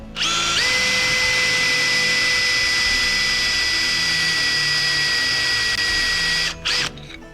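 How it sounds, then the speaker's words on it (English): A loud power drill whines at a steady high pitch, notching steel leaf springs, grinding continuously for several seconds before cutting off abruptly with a brief restart. "we're going to take our drill and we're going to notch out"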